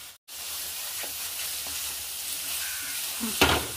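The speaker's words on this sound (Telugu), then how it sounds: "చూడండి సూపర్గా ఉల్లిపాయలు మసాలా అంతా వేసి సూపర్గా కారం అంతా వేసి మంచిగా మగ్గించుకుంటున్నాను" Onion, coconut and chilli masala frying in a pan for a fish curry, a steady close sizzle with a few stirring scrapes and a louder clatter near the end.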